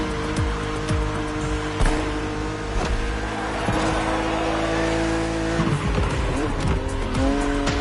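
A BMW Z roadster races in The Crew Motorfest: a loud, steady engine drone rises and falls through gear changes, with repeated sharp tire squeals and skids throughout.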